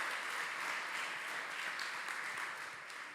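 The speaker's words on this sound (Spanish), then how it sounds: "denle un aplauso fuerte" Faint, steady applause from a church congregation during a sermon, a soft continuous patter of many hands lasting the whole moment and tapering slightly at the end.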